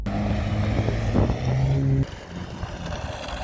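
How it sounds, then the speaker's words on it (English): A VW Golf R engine drifting, a loud sustained drone with steady harmonic tones that drops abruptly about two seconds in to a lower, rougher running note. "And now continuous drift into the sunset."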